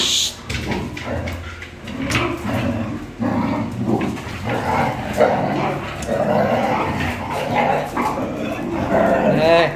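Several dogs, including a large father dog and its pups, barking and yipping in noisy play, with growls and scuffling throughout and a voice speaking now and then over the commotion.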